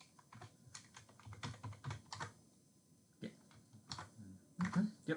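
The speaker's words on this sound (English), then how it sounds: "just checking I typed that all in correctly" Keys tapped in quick, irregular bursts on a calculator while checking figures for a correlation coefficient, close and quiet clicks separated by short pauses.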